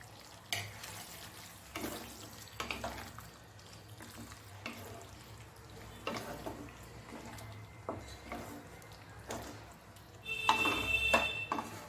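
Ghee and fried onions go into a pan of duck egg korma, giving a soft, continuous sizzle broken by scattered scraping stirs, with a brief brighter burst of frying near the end.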